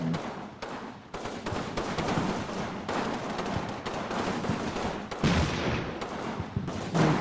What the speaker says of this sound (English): Wildly inaccurate artillery. Someone's firing at me.